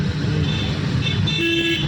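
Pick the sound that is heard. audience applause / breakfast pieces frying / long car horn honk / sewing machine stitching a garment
long car horn honk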